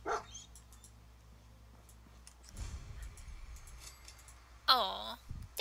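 A dog in the video game Fallout 4 gives a short, fairly loud bark with a whimpering yip near the end, after quieter game ambience and footsteps.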